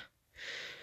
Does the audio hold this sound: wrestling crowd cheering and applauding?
no